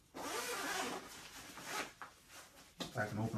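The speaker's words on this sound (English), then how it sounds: "we have the zipper." Zipper on Decathlon rain pants being opened, a long rasping pull followed by shorter zipping bursts, close and moderately loud, with a voice speaking in between.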